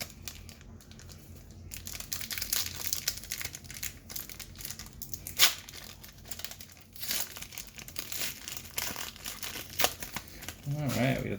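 A 2016 Donruss baseball card retail pack wrapper is torn open and crinkled, giving close, continuous crackling and rustling with sharper tearing bursts. No voice is heard.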